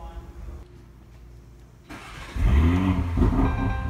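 A car engine cranks and catches, then settles into a loud, rough idle close by, after a brief quiet lead-in; the check engine light is on.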